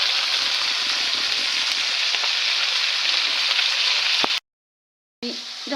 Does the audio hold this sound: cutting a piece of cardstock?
no